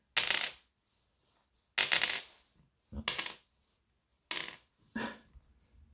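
A bone guitar nut is dropped onto a table several times, each drop a sharp, bright, resonant clack with a short ringing tail, spaced a second or so apart with quiet between.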